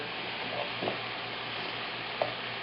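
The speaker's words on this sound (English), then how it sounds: "Our mushrooms and onions are sauteing in the sherry wine" Mushrooms and onions saute in sherry wine in a pan, giving a steady, soft, hissing sizzle with a few faint clinks near the end.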